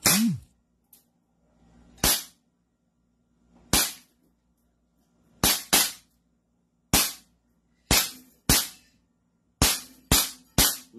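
A gun fired about eleven times in irregular succession, each a sharp, loud, close report with a short decay and quiet gaps between shots.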